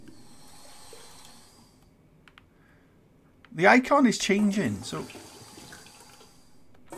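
Toilet flushing inside the horror video game Monstrum, a rushing gurgle of water that surges loudly midway after a quiet stretch, with someone talking over it.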